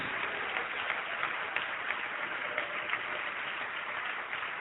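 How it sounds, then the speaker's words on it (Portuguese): Church congregation applauding at a sermon, a steady, dense wash of clapping filling the whole stretch at moderate level with no voices standing out. "Vamos aplaudir mais ao nome do Senhor Jesus."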